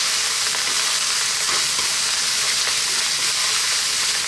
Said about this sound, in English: Let's drop that cilantro or coriander, whatever you call that, in. One last little mix.